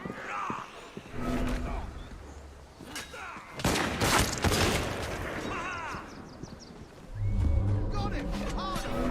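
Gunfire from the video game Assassin's Creed Syndicate: a few sharp, loud shots early on, then a dense burst of rapid fire at mid-clip, set against busy game ambience with murmuring voices and scattered clatter.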